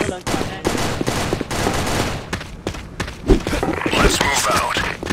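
Gunfire crackles in a team shooter video game, dense bursts of rapid shots and sharp single cracks from close by, with game voices mixed in.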